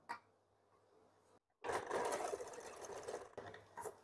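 A sewing machine stitches a bra-cut blouse, starting after a quiet pause and then running in a fast, steady whir, close and moderately loud, with no talking.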